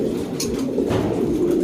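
A bonded pair of Tiger line pigeons coo softly and steadily close by, a low rolling murmur that carries on without pause and with no talk over it.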